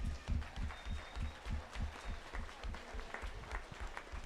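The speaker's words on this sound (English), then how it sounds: "let's give these young small fry sheep showmen a big round of applause" Audience at a 4-H market lamb show at the Elbert County Fair applauds young sheep showmen, a steady crowd clapping with low thumps from the arena throughout.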